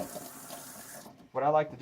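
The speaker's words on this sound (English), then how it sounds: "Go ahead and just run some water in it." Tap water runs into a hookah being cleaned, a soft steady splashing flow, then a louder, brighter gush near the end; a faint voice may be present underneath.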